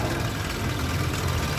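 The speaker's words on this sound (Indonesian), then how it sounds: "Stasionernya normal, mesinnya halus." A 2006 Suzuki Katana GX motorcycle engine idles steadily, a low continuous rumble that holds even throughout with no talk over it.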